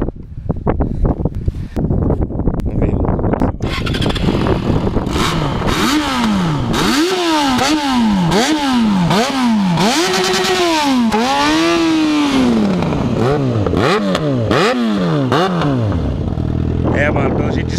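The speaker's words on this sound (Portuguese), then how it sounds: "o escape encaixou ali e vamos testar, vamos ver o que dá isso aí" Yamaha XJ6 motorcycle with a straight pipe exhaust revved hard outdoors, loud repeated rising and falling throttle blips after a rough idle, with wind buffeting the microphone.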